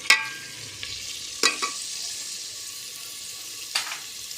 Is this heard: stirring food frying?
yes